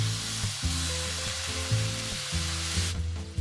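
Shrimp in a sorrel sauce sizzling and reducing in a pan, a steady close frying hiss running throughout with no talk, plus a sustained low tonal hum underneath.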